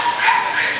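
A dog's short, high-pitched yip or whining bark at a pet expo, close by and brief, with a noisy background.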